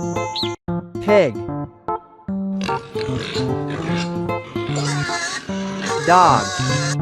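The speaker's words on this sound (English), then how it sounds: "pig," A farm pig grunts and oinks close by, mixed with squealing and other livestock calls in a busy, loud barnyard chorus.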